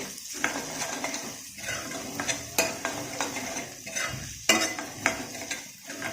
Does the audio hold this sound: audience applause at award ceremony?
no